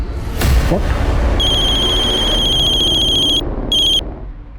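A phone ringtone for an incoming call, a steady tonal ring that plays for about two seconds, breaks off briefly and sounds again, over a busy indoor background with some talk.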